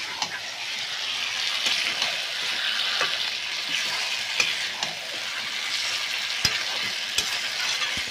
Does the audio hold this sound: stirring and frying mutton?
yes